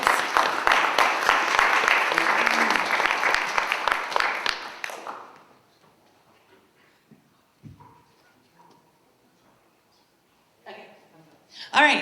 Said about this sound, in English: Everyone give them a big round of applause.